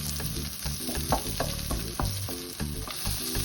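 Garlic and onion sautéing in a pan, a steady close sizzle broken by repeated scraping stirs, with tonal background music running underneath.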